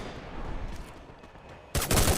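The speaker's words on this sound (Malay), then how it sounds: "Lihat bagaimana Luxi di sini membuat tembakan" Video game gunfire from an MP40 submachine gun, a dense burst of rapid shots that comes in loud and close near the end after a stretch of muffled battle noise.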